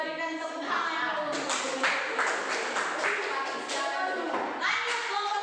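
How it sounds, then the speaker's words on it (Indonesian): A classroom of student groups clapping together, a brisk, fairly close patter of hand claps layered with voices talking over it. "kita berikan tepuk tangan yang dulu"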